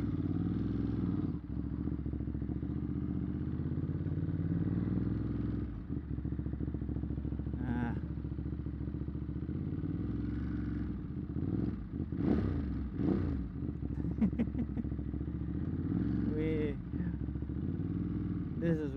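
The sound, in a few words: motorcycle engine running and revving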